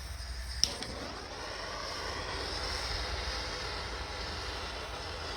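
A propane torch flame roars steadily while heating a section of an S10 pickup truck frame, a constant close hiss with one brief click near the start.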